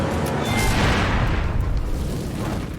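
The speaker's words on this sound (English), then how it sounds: "This flash fire isn't just igniting the flour in the room" A flour dust flash fire set off by an air cannon inside a room roars as one loud, sustained whoosh that fills the space and slowly fades over a few seconds.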